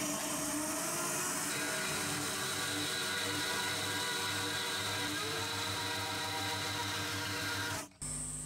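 A milling machine cuts a bevel along the edge of a steel or brass clamp jaw, giving a steady loud mechanical whir and grinding drone that holds for about eight seconds before cutting off abruptly.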